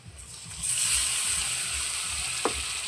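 Chopped onion, ground dried chili, cumin, tomato puree and ginger-garlic paste hit hot oil together, bursting into a loud, steady sizzle that holds as a bright continuous hiss, with one small clink.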